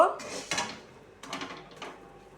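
A metal cooking pot is lifted off the stove with a few sharp clanks and scrapes, one at the start, another half a second later and a cluster after a pause, with faint speech nearby.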